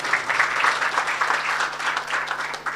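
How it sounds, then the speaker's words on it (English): An audience in a mosque hall applauds at a lecture on dementia, Alzheimer's and Parkinson's, a dense, steady wash of many hands clapping at moderate distance, with a low hum beneath. "Give him a warm round of applause."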